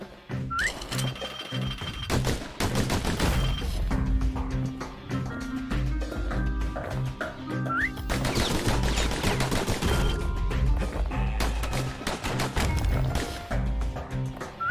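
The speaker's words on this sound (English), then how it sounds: "Those pistols can spit out rounds just as quick as you can pull the trigger." Pistol gunfire in the action game Bastion on Nintendo Switch, with rapid sharp shots in quick repeated bursts over a layered game music soundtrack.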